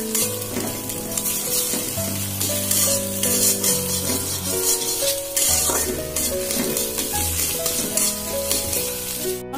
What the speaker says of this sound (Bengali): আমি খুব সামান্য তেল দিয়েছি, ডিমটাকে ভেজে নেব।